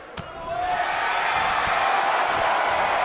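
Video-game arena crowd in WWE 2K19 wrestling, a loud sustained roar of cheering that swells after a sharp slam near the start and stays dense throughout.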